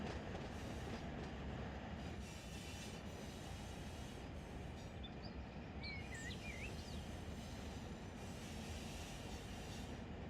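Trains rumble steadily through a Los Angeles rail yard in the Run 8 train simulator, a continuous low rolling drone with faint wheel squeals and distant bird-like chirps, no talk.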